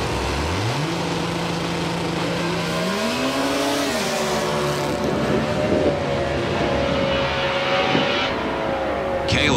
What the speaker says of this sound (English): Truck leaves hard, front end in the air.